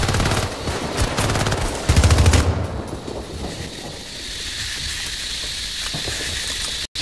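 Gunfire in the video game Syndicate: rapid automatic bursts rattle loudly for about two seconds, then give way to a sustained hissing, rushing noise.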